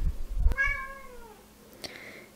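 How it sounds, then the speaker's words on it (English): A pet cat lets out one clear, drawn-out meow, close and fairly loud, followed by a short faint chirp in a quiet room. "My cat has a lot of opinions. She has a lot to say about these cards."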